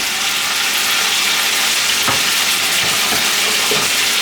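Tomatoes sizzle and fry in a hot wok, with a loud, steady hiss and a few faint clinks of stirring.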